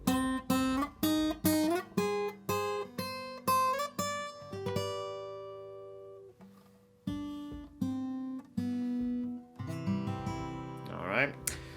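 A plucked acoustic guitar plays a slow, gentle lullaby melody from Coco, single notes and soft chords ringing clearly on its own with pauses between phrases.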